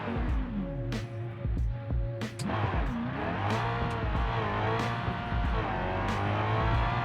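Car in BeamNG launching on a drag run, engine loud and close as it revs hard through rising pitch sweeps with quick gear changes, then climbs again in a sustained roar, no voices.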